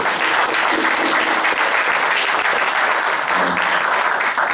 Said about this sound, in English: round of applause for BKB